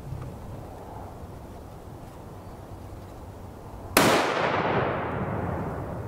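A single sharp, loud .300 Win Mag rifle shot fired at a UHMWPE plate, cutting through quiet outdoor ambience and followed by a decaying rumble.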